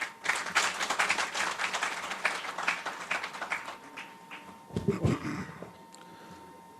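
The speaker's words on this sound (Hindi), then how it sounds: "शिराज मेहदी साहब के लिए बहुत सारी तालियां आप सब" Audience clapping at the 7th Aalmi Mushaira, an Urdu poetry gathering in Kuwait, starting as brisk rhythmic applause, thinning out midway with a brief voice and a thump, then fading to near quiet.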